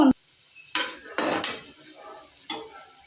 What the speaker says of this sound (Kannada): ಈ ಎಲ್ಲ ಹಾಕಿ ಒಂದು ಸ್ವಲ್ಪ ಕಂದು ಕಲರ್ ಬರೋವರೆಗೂ ನಾವು ಇದನ್ನು ಫ್ರೈ ಮಾಡ್ಕೋಬೇಕು